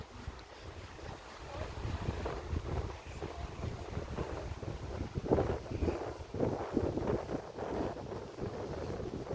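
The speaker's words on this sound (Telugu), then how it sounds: "గాలి కొడుతుంది" Wind buffeting near a rocky coast by a lighthouse, a continuous low rushing roar with gusty swells and microphone rumble, moderately loud throughout.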